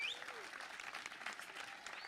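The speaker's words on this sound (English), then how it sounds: "So, round of applause." Faint audience applause at a Habitat for Humanity work project closing ceremony, a distant, steady spatter of clapping with a brief whistle-like tone at the start.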